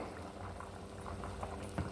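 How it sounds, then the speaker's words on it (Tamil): Coconut chicken curry bubbles steadily in a pot, a close, continuous boiling patter with scattered pops and no voices. "இன்னும் கொஞ்சம் கொதிக்கட்டும்."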